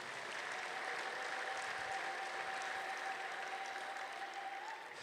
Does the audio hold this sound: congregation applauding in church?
yes